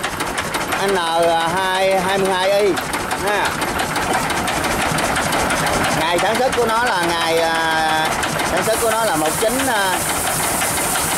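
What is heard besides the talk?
old Yamaha diesel engine running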